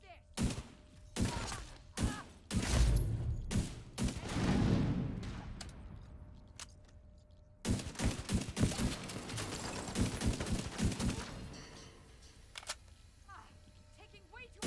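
Game combat in The Division 2 with an RPG being fired, sharp explosive bursts and rapid gunfire cracks repeating loudly throughout, with a dense stretch of shots in the middle and voices talking over the fight.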